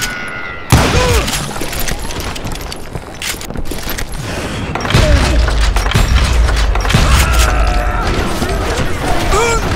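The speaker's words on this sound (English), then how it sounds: "Dynamite for assholes who can't" Dynamite explosions and gunfire in the Wild West shooter Call of Juarez: Gunslinger, with a sudden loud blast early on and repeated booms and shots after it, all continuous and close.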